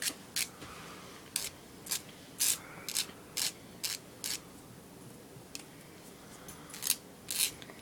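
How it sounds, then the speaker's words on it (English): A Jamberry nail wrap being torn away at the nail tip, heard as a close series of short, crisp crackling tears in an irregular rhythm, quiet and with no voice over them. "I'm going to go ahead and go straight down, and it's going to basically tear it"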